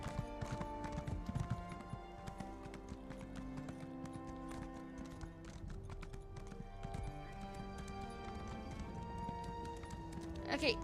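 Horse hooves clip-clop steadily as a rider travels in the video game Elder Scrolls Online, the rhythmic beats running throughout beneath game music and a talking voice.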